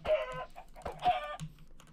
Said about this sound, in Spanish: si mato alguna gallina, voy teniendo huevos